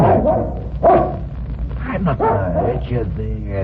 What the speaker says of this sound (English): Suddenly, the dog knew I was there.